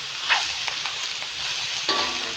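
Cabbage stir-fried in a hot pan for Thai fried mee sua gives a steady close sizzle with a few scraping stirs, no voices.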